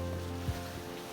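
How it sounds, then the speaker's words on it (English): Water washes along the rocky shoreline of Isle Royale as a steady, soft surf hiss with a low background hum, heard briefly and without any talk. "you can probably hear the water"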